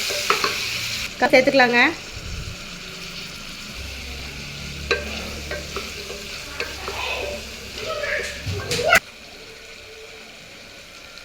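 Vegetables fry in a pan with added tomato and salt, giving a steady sizzle broken by a loud burst of stirring and scraping early on and more clatter later, with a person speaking over it.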